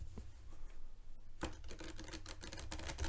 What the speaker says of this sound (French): Et on va faire un petit riffle.